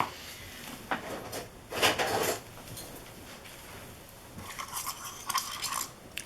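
A tool scrapes acrylic paint out of a cut-open paint tube resting on a napkin, a few short rasping strokes with a longer one in the middle, close and fairly soft.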